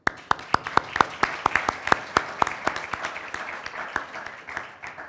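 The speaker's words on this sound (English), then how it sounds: "big round of applause for you" An audience at a panel session on the EU and Western Balkans region gives a round of applause: a modest crowd's sharp, scattered claps, clear and fairly close, thinning slightly toward the end.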